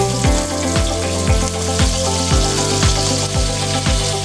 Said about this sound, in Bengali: তেলে দিয়ে দিলাম মাছগুলোকে ভালো করে ভেজে নিচ্ছি